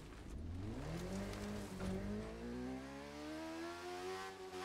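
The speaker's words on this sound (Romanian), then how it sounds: "Vedem drift cu motorul." A BMW S1000RR motorcycle engine in the racing game The Crew 2 revs and climbs in pitch through the gears, a smooth rising whine heard alone and fairly close.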